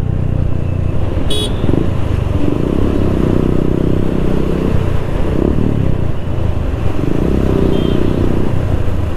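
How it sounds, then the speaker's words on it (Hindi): Modified TVS Raider motorcycle riding through Ahmedabad traffic, its steady engine drone and wind rumble filling the clip loud and close, with a brief horn toot early on and another faint one near the end. "मेहुल भाई थोड़ा आराम से चलाते हैं वो अपनी बाइक को ज़्यादा रफ नहीं रफली नहीं लेते हैं"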